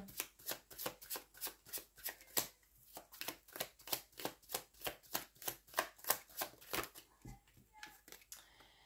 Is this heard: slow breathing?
no